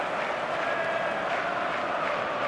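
A stadium crowd in an eFootball video game keeps up a steady, dense roar of cheering, at an even level throughout with no break.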